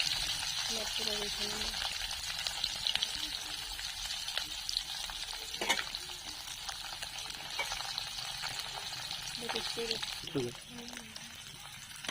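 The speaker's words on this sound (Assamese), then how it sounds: "তেলখিনি গৰম হৈ গৈছে, এতিয়া মাছখিনি ভাজি লওঁ।" Steady frying sizzle of dried fish in hot oil, continuous and close, with a voice speaking over it at moments.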